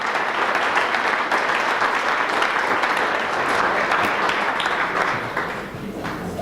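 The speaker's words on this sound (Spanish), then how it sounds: "yo quiero pedir a ustedes un aplauso, por favor, de bienvenida a nuestra clase." Sustained applause from a conference audience welcoming a guest, loud and dense. The clapping stays steady for several seconds, then thins slightly near the end, with no talk over it.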